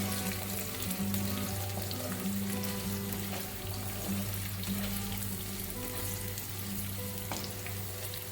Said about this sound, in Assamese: এতিয়া আটাইখিনি 2-3 মিনিটৰ বাবে ভালদৰে ভাজি ল'ম।